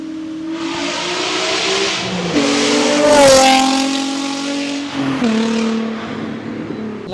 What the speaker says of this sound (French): Et là, il va taper une accélération.